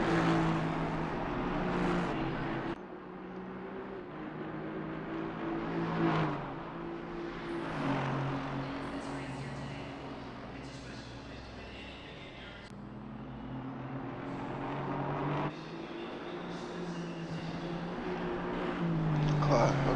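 GT4 race cars lap the Indianapolis road course, their engines swelling and fading as they rev and pass at a distance. Commentators talk over the engine noise throughout.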